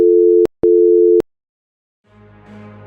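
A telephone line gives two loud, steady beeps of a disconnected tone after a call cuts off, followed by silence and then a low, faint background hum.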